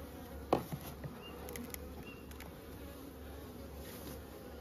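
Honey bees buzz steadily around a strong, rebuilding hive in spring, a continuous close drone with a few brief knocks and rustles early on.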